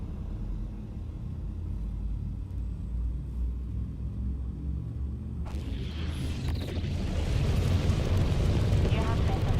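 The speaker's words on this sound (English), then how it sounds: "Frameshift drive charging." A spaceship's frameshift drive in the game Elite Dangerous charges and jumps: a deep rumble builds, then a sudden roaring surge swells louder and sustains to the end.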